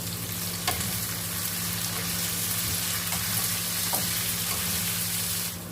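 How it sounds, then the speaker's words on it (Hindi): Okra frying over high flame with salt and turmeric, giving an even crackling sizzle throughout, with a few faint spoon taps and no speech. "भिंडी को तेज आंच पर फ्राई करते हैं।"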